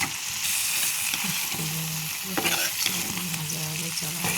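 Tomato-based cauliflower curry sizzling and frying in an oiled pan as a spoon stirs it, with a steady close sizzle and intermittent scraping and stirring clatter throughout.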